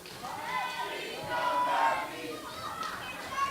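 Wrestling event crowd reacting poorly to Jetta, a dense murmur of many voices with scattered jeers and shouts, fairly distant and steady, rising slightly midway.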